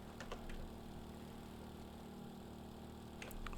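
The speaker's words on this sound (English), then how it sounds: "Engines are powering up. Tail rotor's powering up." A helicopter's engines and tail rotor power up in the Stormworks: Build and Rescue video game, giving a steady, droning mechanical hum that holds at an even level, with no talking over it.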